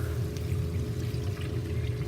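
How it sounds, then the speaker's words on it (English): Milk is poured steadily into a cooking pot while making vegan artichoke pasta, a continuous close splashing pour lasting about two seconds with no talking. "So I'm going to put in 3 cups of milk."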